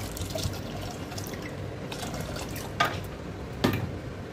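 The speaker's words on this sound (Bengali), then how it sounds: "এবার ছোলের মধ্যে পরিমাণ মতো জল দিয়ে দেব।" Water pours quietly into a pot of chickpeas being prepared for chole, a soft steady trickle with a couple of brief splashy drips, no voices.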